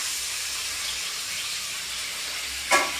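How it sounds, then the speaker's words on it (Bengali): Two large onions sizzle in hot oil in a wok, a steady broadband frying hiss that holds evenly throughout, with a brief sharp clatter near the end. "এবার পেঁয়াজটাকে আমি একটু ভালো করে ভেজে নেব।"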